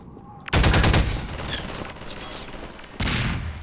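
Bursts of automatic gunfire in Half-Life 2, a loud rapid volley opening the moment, a dense stretch of shots, then another heavy burst near the end.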